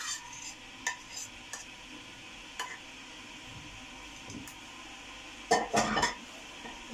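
Fava beans (ful) are stirred in a dish with quiet scraping and light clinks of a utensil against the pan, over a faint sizzle, building to a brief louder clatter near the end.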